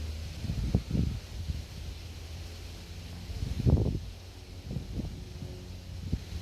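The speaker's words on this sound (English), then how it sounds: "It is quite windy, so" Wind blows steadily against the microphone of a DJI Mavic Mini drone flying near bridges in Edmonton, Canada, with low rumbling gusts and a few soft thumps.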